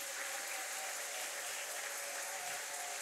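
A church congregation claps steadily and loudly throughout, a dense continuous wash of applause from many hands with no breaks.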